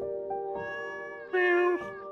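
A cat meows in Stardew Valley, a clear tonal cry that rises into a louder, brighter second meow before trailing off, heard alone and close.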